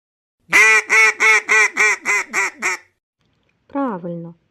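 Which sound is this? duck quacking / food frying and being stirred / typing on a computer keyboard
duck quacking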